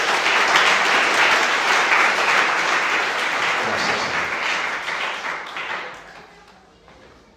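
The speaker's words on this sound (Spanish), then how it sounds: "Dale un aplauso al Señor." A church congregation applauds in a sustained wash of clapping that gradually fades out, with a brief spoken word over it near the end.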